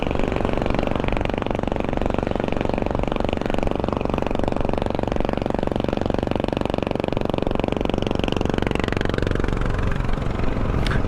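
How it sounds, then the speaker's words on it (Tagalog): A Yamaha NMAX scooter with a loud open exhaust pipe drones steadily at close range, a dense, rough engine roar that holds constant for the whole stretch with no talk over it. "Mingi po ang tambutso ni Kuya."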